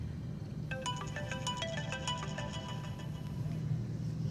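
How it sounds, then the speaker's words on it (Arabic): A mobile phone ringtone plays a repeating electronic melody at moderate volume for several seconds over a low steady background hum, with no speech over it. "تليفونك بيرن أهو، ممكن تردي وممكن ما ترديش."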